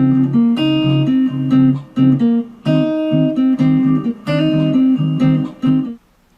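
A guitar plays the simple single-note melody of a song's solo in a steady rhythm, with clear plucked notes ringing out in a few short phrases before fading.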